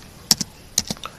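A web address is typed on a computer keyboard, a few quick close key clicks in two short bursts with quiet gaps between.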